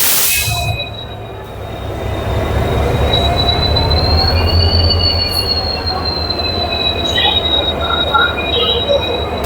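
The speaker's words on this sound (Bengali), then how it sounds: "শালিমারের 1 নম্বর প্ল্যাটফর্মে আমাদের ট্রেন সান্টিং হয়ে গেছে" A train shunts onto platform 1 at Shalimar station, its wheels squealing loudly and steadily over a heavy low rumble for the whole stretch, close by.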